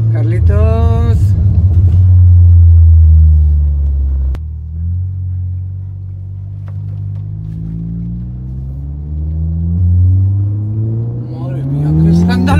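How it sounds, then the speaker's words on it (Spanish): Seat Cupra car engine revving loudly, a deep rumbling roar that surges, dips and climbs again, heard from inside the car with people talking over it at the start and end. "Madre mía, qué escándalo de coche"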